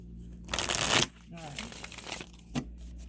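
Tarot cards being shuffled close by, a dense papery riffle burst followed by softer sliding and crinkling, with a voice speaking briefly in between.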